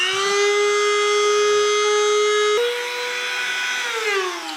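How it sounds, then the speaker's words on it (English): A small rotary tool with a sanding cylinder shapes the inside of a bumper for a wrecked V8 Jaguar S-Type R, a loud, steady high-pitched whine that dips briefly midway, then winds down in pitch at the end, with no talk. "get the little sanding cylinder to zip around inside there"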